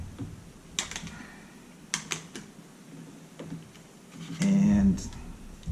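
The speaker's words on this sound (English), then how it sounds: "the first thing you're going to do is you're just going to peel these off." Ear pads peeled off Bose QC headphones give a few sharp plasticky clicks and crackles, spaced about a second apart, close up, with a short hum and a voice present.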